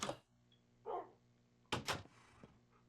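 Dogs in Minecraft on the Wii U give a few short barks, scattered with gaps between them, fairly faint against a low background hum, with no talk over them.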